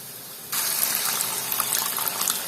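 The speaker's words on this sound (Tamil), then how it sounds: "இந்த ஊற வச்சிருந்த புளியையும் நல்லா கரைச்சி ஊற்றிட்டேன்." Dissolved tamarind water pours into a pan while sambar is cooked, a sudden steady gushing splash starting after a short quiet moment and continuing without talk.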